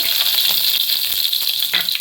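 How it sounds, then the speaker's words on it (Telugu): Mustard seeds, cumin and dried red chillies tempering in hot oil for an ivy gourd fry, a loud, dense, crackling sizzle with small pops and a light rattle of seeds, steady and close throughout. "ఇలా తాలింపులు వేసుకున్నాను"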